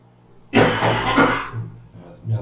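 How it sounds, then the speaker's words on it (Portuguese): A person with a lingering cough lets out one harsh, loud cough burst followed by a shorter second cough, close up, with a brief throat sound trailing after. "Minha tosse ainda está aí."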